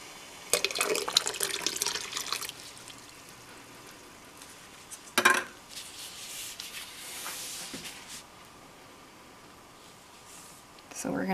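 Wool yarn is dipped into water mixed with Wiltons Violet dye, giving soft splashing and sloshing at the start, a brief sharp splash midway, then quiet trickling and gentle movement of liquid with low background noise.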